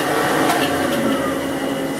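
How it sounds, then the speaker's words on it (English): A shop vacuum wired to run with a bandsaw gives a steady, loud, close whining roar with no breaks and no talk. "I was able to simply wire the vacuum cleaner in so it operates with the bandsaw."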